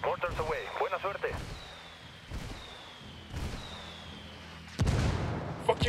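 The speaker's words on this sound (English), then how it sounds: "I'm calling for indirect fire. We copy. Mortars away." Mortar rounds from called-in indirect fire in Ghost Recon Wildlands strike in a series of booming impacts, roughly one each second, ending in a heavier close blast. A brief radio voice opens the sequence.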